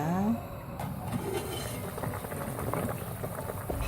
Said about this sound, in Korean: 이렇게 붓고 한참을 팍팍 끓여야지 미역국이 정말 맛있게 된답니다